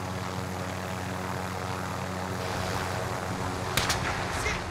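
A helicopter flying in the video game Warzone, a steady droning engine and rotor hum that holds throughout with no talk over it.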